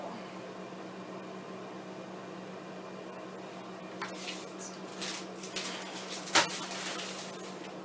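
Microwave oven humming steadily while melting candy for rainbow bark, a low continuous drone with faint clicks and clatter toward the end and one sharp metallic tick near the finish.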